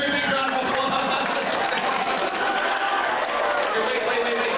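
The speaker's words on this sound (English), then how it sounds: "Everyone give her a big round of applause." A middle school show audience applauds steadily for several seconds, a dense close wash of clapping and crowd noise with voices mixed in.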